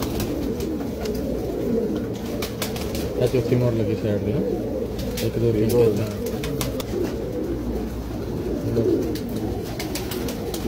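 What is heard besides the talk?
pigeons cooing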